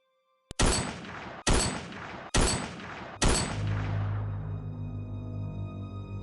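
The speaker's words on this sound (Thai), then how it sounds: "เสียงปืนดังขึ้นสี่นัดสนั่นหวั่นไหว" Four loud gunshots from percussion-cap muzzle-loading guns ring out, evenly spaced, each with a sharp crack and a long echoing tail, the last fading into a low rumble.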